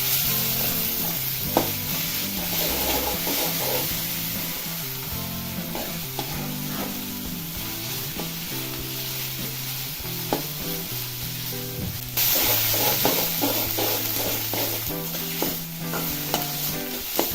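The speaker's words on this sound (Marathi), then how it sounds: "पालकचं वाटलेलं गरबट घालायचं आहे उकडून पिळून मिक्सरला लावून घेतलेलं आहे ते ह्या तेलामध्ये थोडंसं परतायचं आहे" Steady sizzling of boiled, ground spinach paste frying in oil, with a spoon stirring and scraping the pan now and then.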